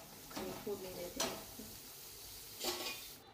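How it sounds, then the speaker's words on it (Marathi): Spices for tempering hit hot oil for a black-masala dal saar, giving short, faint sizzling bursts between soft clinks of kitchen utensils, with a voice speaking quietly nearby. "आणि फोडणी देते."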